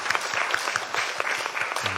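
A church congregation applauds during a Sunday worship service. Many hands clap at a moderate level in a steady, slightly uneven patter that lasts about two seconds.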